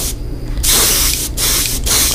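Airbrush sprays paint in long hissing bursts, broken by brief pauses, with an uneven, sputtering feathering caused by a small paint clog near the trigger, close and loud while painting chartreuse bass lures.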